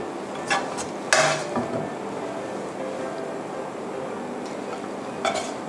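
Crab fried rice is scooped from a pan into a bowl in a home kitchen, with a few sharp clinks and scrapes of a spoon against metal and ceramic over a low background hum, close and without talking.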